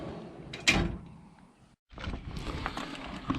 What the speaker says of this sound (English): you just slide the catch to release that and open the drawer.